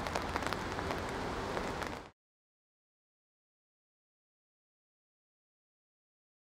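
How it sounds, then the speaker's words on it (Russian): Heavy rain pours steadily in a dense, loud hiss for about two seconds, then cuts off abruptly into silence. "Погода идеальная, льет дождь,"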